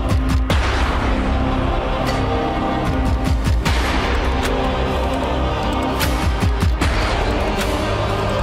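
Gunshots serving as the snare drum in a League of Legends champion theme, punchy repeated blasts striking through a loud, full orchestral track with deep booming percussion.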